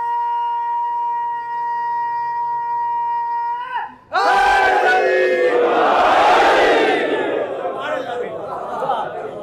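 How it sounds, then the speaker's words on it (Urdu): At a Shia majlis, a held sung or recited tone gives way to a loud crowd chanting religious slogans in unison, voices surging together and sustained, then tapering slightly. "نعرے"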